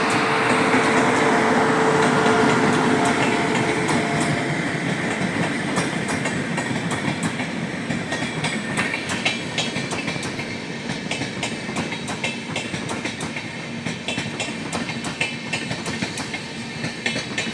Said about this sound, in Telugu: కిరండోల్ నుండి విశాఖపట్నం వెళ్ళేటువంటి బండిది